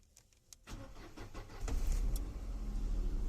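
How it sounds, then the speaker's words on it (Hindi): A car's ignition turned on during a driving lesson: a quiet click and rattle, then the engine cranks and catches, settling into a steadily louder idle rumble up close. "इग्निशन अगर आपको ऑन करना है तो इग्निशन ऑन करते हुए"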